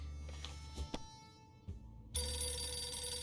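A telephone rings in the video game 60 Seconds! Reatomized, a sustained bright electronic ring starting suddenly partway through after quieter game tones and clicks.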